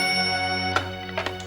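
A telephone ringtone rings steadily in a household scene, a repeating electronic melody heard clearly with a few brief knocks or clicks near the end.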